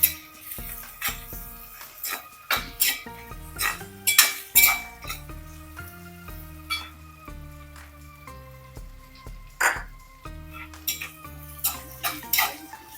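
A metal spoon clanks and scrapes against a pan while crushed garlic cloves are sautéed with softened onions for a green plantain curry: repeated irregular clinks and stirring strokes, close and fairly loud, with a faint sizzle beneath.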